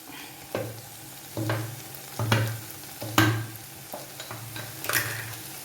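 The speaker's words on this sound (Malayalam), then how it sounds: "ഇന്നലത്തെ കറി ചേർത്ത് കൊടുക്കാം" Leftover curry mixed into a sizzling pan, a rhythmic series of six or seven stirring scrapes and clinks over a steady low frying hiss.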